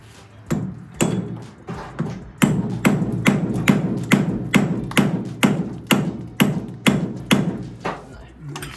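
Hammer blows driving a drift against a seized suspension bolt on a Porsche, a steady series of loud, close metallic thuds about twice per second.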